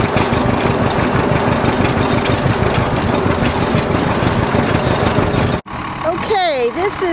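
A 1975 International 1066 diesel turbo tractor idles close by with a loud, steady, knocking rumble that cuts off near the end, followed by a person speaking.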